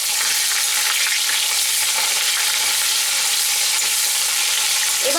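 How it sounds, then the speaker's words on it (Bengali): Chopped onion frying in a pan with cinnamon sticks gives a loud, steady, close sizzle that holds evenly throughout. "এবার আমি ভেজে নেব।"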